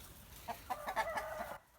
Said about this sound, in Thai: นี่มงเฝ้าคอกไก่ครับ